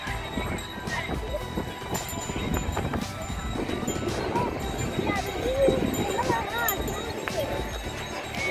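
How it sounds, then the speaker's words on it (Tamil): Hooves clip-clop in an irregular patter as a horse moves near a lodge in Tiruchendur, with scattered sharp knocks under continuous background noise and people talking. "இந்த குதிரை நல்லா ரன்னிங் ஓடுமா?"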